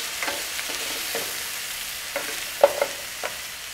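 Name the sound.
lobster sautéing in a pan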